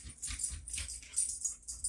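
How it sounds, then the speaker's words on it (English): A dog wearing a jingly collar makes bright, irregular metallic jingles close by, repeated bursts of tinkling as it moves about, with soft low thumps underneath. "I'm watching my friend's dog while she's out of town, and he's got this jingly collar on"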